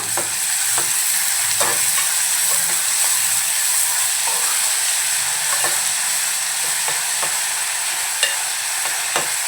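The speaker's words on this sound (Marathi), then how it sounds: "कांदा हलकासा लालसर होईपर्यंत आपल्याला परतवून घ्यायचा आहे 2-3 मिनिटं" Chopped onion stirred and fried in a pan for chicken curry, a steady close sizzle with repeated scraping strokes of the spoon running throughout, no voices.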